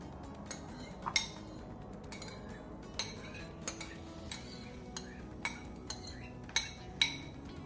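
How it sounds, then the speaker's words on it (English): A metal spoon pressing egg yolks through a strainer, giving light, regular metallic clinks and taps against the mesh and bowl, close and quiet. "with the help of a strainer and a spoon, we're gonna get rid of the little film that holds the yolk together"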